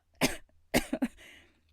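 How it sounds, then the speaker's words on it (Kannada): A man gives a few close, harsh coughs in a short burst, one cough and then a quick double, in a quiet room. "ಕೆಮ್ಮುತ್ತಾ ಬಿಕ್ಕಿ ಅಳತೊಡಗಿದ"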